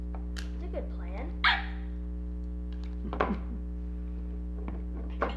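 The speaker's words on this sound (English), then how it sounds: "It barked when you turned it off." A robotic toy dog lets out a few short electronic barks over a constant low electrical hum, with people talking around it.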